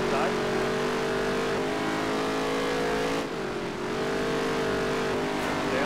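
Dirt track race car engines in the NASCAR Heat 3 game hum steadily and loudly throughout, with a brief dip in pitch midway as the car lifts off, while a voice talks over the engine noise.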